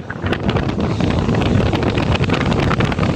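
Heavy wind buffets the microphone at Manila Bay after Typhoon Uwan, a loud continuous roar that almost buries the churn of big waves beneath it.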